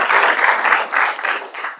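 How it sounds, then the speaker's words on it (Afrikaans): Church congregation applauding during a sermon, a dense steady clapping of many hands that holds loud and fairly even, swelling slightly in bursts. "Gee 'n hande klap vir die Here."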